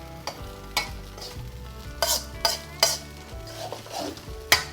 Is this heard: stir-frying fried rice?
yes